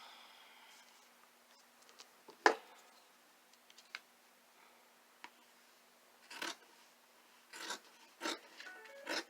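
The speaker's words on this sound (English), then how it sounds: "so I'm cutting the satin lining first." Scissors snip through satin lining fabric in a few short, crisp cuts, one sharp near snip early then a spaced run of brief cuts toward the end, quiet between, with no talking.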